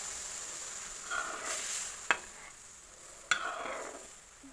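Apple halwa cooks with milk in a pan, giving a soft steady simmering hiss with a few light scraping stirs, quiet and close with no talking.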